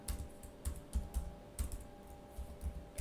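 Computer keyboard typing in a quiet room, a few soft irregular clusters of keystrokes with short pauses between them, faint and close.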